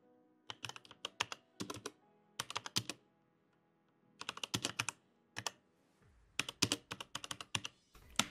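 Bursts of quick keystrokes on a computer keyboard while a router command is entered in a network setup, clustered in several short rapid runs separated by pauses, close and clear with no talking.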